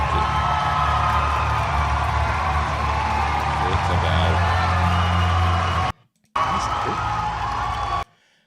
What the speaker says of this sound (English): I wonder if he gets a loud cheer